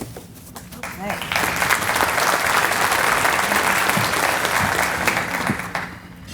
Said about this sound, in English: So round of applause for those folks, those bands for being here